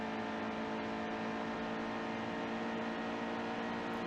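Chevrolet Camaro stock car engine in the NASCAR Heat 2 racing game, Xfinity Series race at Las Vegas, a steady droning hum held at constant pitch throughout with no talking.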